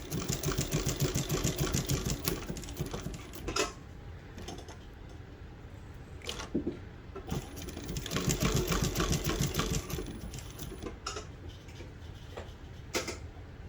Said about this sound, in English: I'm gonna go a short stitch there, foot on the way down, change direction.